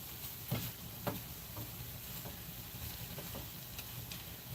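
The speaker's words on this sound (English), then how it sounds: "Now we're just going to stir these in." Garlic-salt seasoning is stirred into food in a pan with a soft, quiet sizzle, broken by a few light scraping and tapping strokes of the utensil, with no talking.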